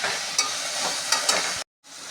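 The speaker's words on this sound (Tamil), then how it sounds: "வாஷ் பண்ண புதினா, வாஷ் பண்ண கொத்தமல்லி ஃப்ரை பண்ணணும்" Washed mint and coriander leaves fry in hot oil for kuska rice, a dense continuous hiss with a few soft pops, cutting out briefly near the end before resuming.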